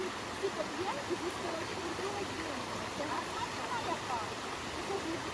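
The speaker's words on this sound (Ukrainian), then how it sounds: "Водоспад, да. І тут питна вода." Steady broadband rush of a mountain waterfall and stream at Polonyna Zalim, continuous throughout with faint voices mixed in the background.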